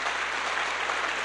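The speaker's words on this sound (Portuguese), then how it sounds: "Aplauda Jesus." Church congregation applauding, a short, even wash of clapping, moderately faint and steady with no voices over it.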